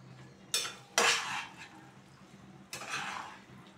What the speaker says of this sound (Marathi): भाजी अशी चांगली हलवून घ्यायची, चांगली परतून घ्यायची.